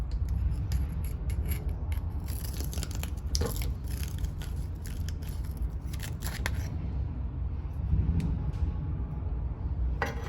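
A cleaning tool twisted inside a MIG welding gun nozzle scrapes out spatter crud, a close, rapid gritty rasping and crunching that runs on continuously, with occasional sharper scratches.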